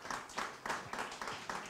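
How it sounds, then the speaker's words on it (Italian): An audience claps at a poetry prize ceremony for a visiting author from Bucharest, with faint, soft bursts of applause swelling in a loose, repeating rhythm from a distance. "ecco, facciamo un applauso all'autrice"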